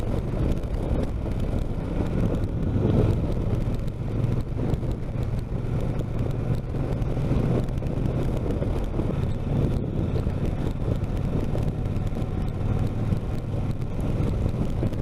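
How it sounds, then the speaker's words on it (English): Steady wind roars and buffets the microphone over a low engine and road rumble from a Triumph T120 motorcycle ride, continuous throughout with no pauses. "Ooh, a little windy."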